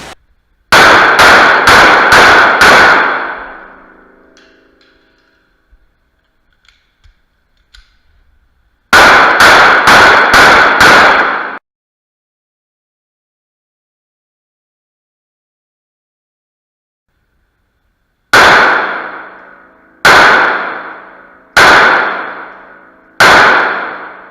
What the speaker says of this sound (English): We're going to do a shoot and move drill with a mag change in between.